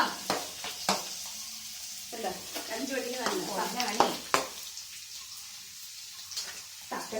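Karimeen (pearl spot fish) being fried in bubbling hot oil, with a steady sizzle broken by bursts of stirring and clatter, close by and moderately loud; a voice talks briefly now and then.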